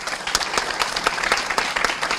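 An audience applauds a World War II veteran, Russ Carr, at a school visit: dense, steady clapping from many hands, close and lively, running for a couple of seconds.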